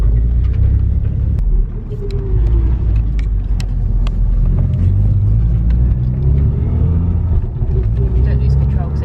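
Car fitted with a 3-inch turbo elbow and downpipe exhaust, heard from inside while driving on boost on a wet road, a deep steady engine rumble with road noise and people talking over it.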